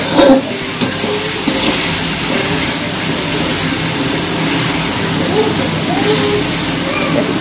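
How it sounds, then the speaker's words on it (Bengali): Onions fry in oil for a Bengali country-chicken kosha cooked on a rooftop, a loud, continuous hiss that holds steady throughout, with outdoor background noise mixed underneath. "পেঁয়াজটা এখন ভাজা চলছে।"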